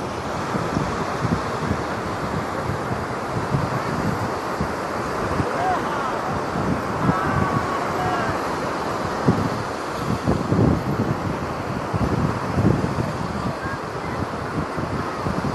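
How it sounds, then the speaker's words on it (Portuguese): Waves and wind at Boa Viagem beach in Brazil rumble in a continuous, uneven wash, with gusts buffeting the microphone and surf swelling louder in places; someone speaks now and then over the noise. "Praia de Boa Viagem mesmo."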